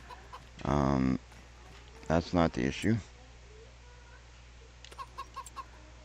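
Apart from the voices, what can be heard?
chickens clucking in the video game Farming Simulator 25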